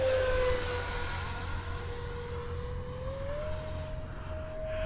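A foam board F-35 RC jet with a 70mm electric ducted fan flies overhead, its steady high-pitched whine holding and then rising slightly in pitch over a constant rushing drone, heard from a distance outdoors.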